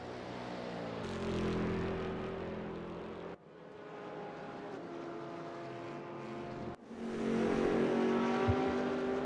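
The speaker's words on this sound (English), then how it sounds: "2 Corvettes fighting each other, 2 generations of Corvette fighting each other" Two Corvette race cars of different generations battle wheel to wheel in the RaceRoom racing game, their engines droning loud and steady with rising and falling harmonic tones, cut into three sustained segments with no voices.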